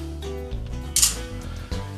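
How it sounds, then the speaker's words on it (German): A camera shutter fires once with a sharp, crisp click midway through, set against a low room hum. "Moment, machen wir mal ein Foto."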